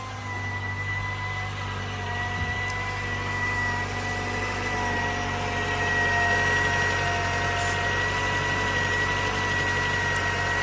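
A car engine idles steadily just after its first start following maintenance, a constant low hum with a slight rise partway through, close and alone without voices.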